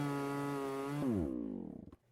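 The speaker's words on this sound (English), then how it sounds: "you should only be exposed to the sound of a chainsaw for about 30 seconds" A chainsaw engine runs at a steady high whine, then its pitch sags and winds down over about a second before the motor cuts out, close and loud with no talk.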